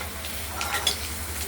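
Posto-stuffed pointed gourd fries in oil in a wok, giving a soft continuous sizzle with a faint stir or clink in the middle, quiet and brief with no talking.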